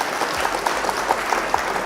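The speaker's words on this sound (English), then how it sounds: "Round of applause for our opponent." Steady clapping from a small crowd after a Flesh and Blood trading card game match ends, dense and continuous for about two seconds with no voices over it.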